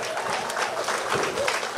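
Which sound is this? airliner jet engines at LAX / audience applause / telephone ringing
audience applause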